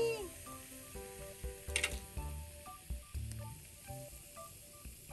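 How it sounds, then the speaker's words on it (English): Fizzing potion from a Magic Mixes Mixlings toy gives a faint hissing crackle with small clicks and pops, partly masked by background music tones. "Oh my gosh, it's so fizzy."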